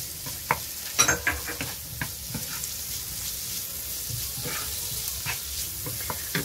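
Garlic and tomato fry in about two tablespoons of olive oil, giving a steady hissing sizzle with scattered spatters and a few clicks of stirring, close and continuous.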